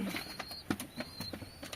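Pigeons shuffle inside a home coop, with soft rustling, a low coo and brief wing flutters, close and faint.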